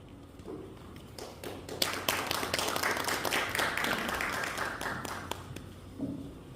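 Congregation applauding during a Wednesday worship service in a Korean church, a fairly quiet wash of many hands that swells, holds steady for several seconds with a few sharper taps, then fades out.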